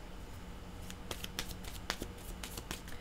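A single card is drawn from a deck of playing cards: a string of quick, dry flicks and papery snaps, close and fairly quiet, over a faint room hum.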